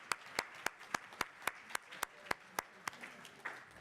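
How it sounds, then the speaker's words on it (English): At a university awards ceremony, a single person claps about a dozen times in a steady, even rhythm, each clap crisp and distinct over faint room tone, without crowd applause filling the gaps. "give them a round of applause"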